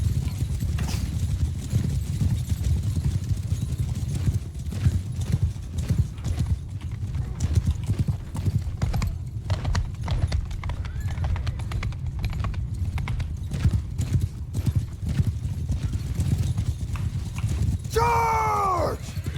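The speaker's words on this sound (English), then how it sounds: "Hearing the hooves of like 250 archers behind me" Hundreds of cavalry horses gallop in a Mount and Blade 2 Bannerlord battle, a dense continuous rumble of pounding hooves with a horse whinny near the end, while a voice shouts over it.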